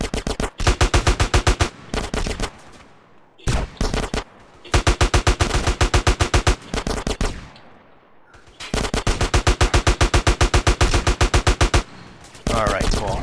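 Bursts of automatic gunfire in the video game GTA San Andreas as enemies open fire, with several long rapid-fire volleys separated by short pauses, loud and close, and no speech.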